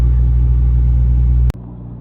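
Heard from inside a truck driving through Riyadh traffic, a steady, loud low engine rumble fills the cab, broken by a sharp click near the end, after which the drone drops slightly.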